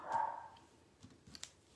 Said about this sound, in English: One starts barking and then the other one's barking because the first one's barking